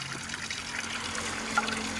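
Water is poured into a bucket for a cement and sand mix, a steady close trickle and gurgle running evenly without pause.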